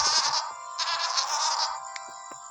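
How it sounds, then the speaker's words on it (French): Sheep in the video game WorldBox, with one wavering bleat followed by a second, both close and fairly loud, then a few faint clicks. "Aussi des moutons."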